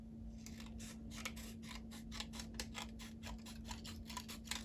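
Scissors cut transfer tape pieces to size for a Cricut Joy craft project, a quick, quiet series of crisp snips over a faint steady hum, with no talking.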